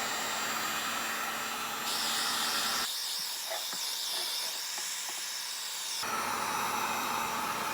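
A heat gun blows hot air onto a stock 350z headlight, a loud steady hiss and whine that shifts in pitch and level as the nozzle moves closer and away, with no voices.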